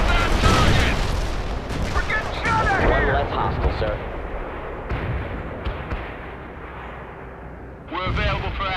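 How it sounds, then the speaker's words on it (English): Mortar and artillery fire from the war video game World in Conflict, repeated booming blasts and crackling impacts under radio-style voices talking. "Target coordinates were way off. Mortars hit nothing."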